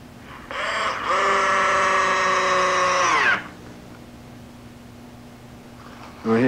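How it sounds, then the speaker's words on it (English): A power drill drives a screw into a model railroad layout board, one sustained whine of nearly three seconds that winds down as it stops, then a brief second burst at the end, close and loud. "Go ahead and put this screw in."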